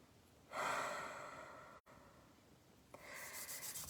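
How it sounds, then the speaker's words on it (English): Person inhaling doTERRA Rest & Digest essential oil from cupped hands, a long close breathy inhale into the palms, a brief pause, then softer rubbing and breathing sounds. "I'm going to put it in my hands and I'm going to breathe it in."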